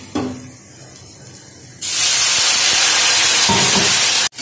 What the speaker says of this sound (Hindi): तो देखिए मेरा मसाला है जो फ्राई हो चुका है